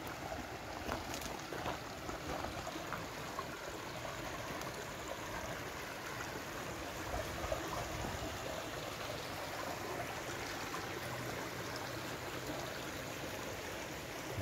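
A small, low-water river flows beneath a bridge, making a steady, broad rushing wash that stays even and continuous throughout, with no voices.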